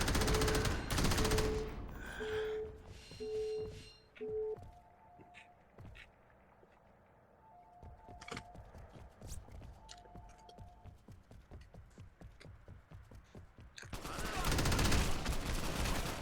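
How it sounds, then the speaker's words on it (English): Machine gun fire in the video game Crackdown: loud rapid bursts open and close the passage, with scattered quieter shots and impacts in between and short tonal game sounds. "They're just firing fucking machine guns at you"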